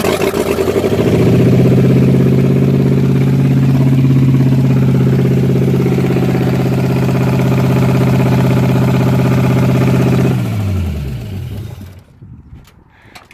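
A small-block Chevy V8 swapped into a BMW E36 drift car fires up on its first start and settles into a loud, steady, rumbling high idle close by for about ten seconds, then winds down and cuts off, leaving quiet background noise.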